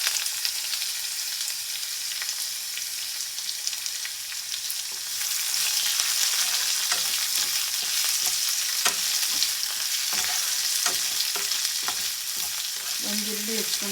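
Chopped onion and curry leaves fry in hot oil in a pan for a small capsicum curry, a steady bright sizzle with crackles and occasional scraping stirs, close and continuous with no talking.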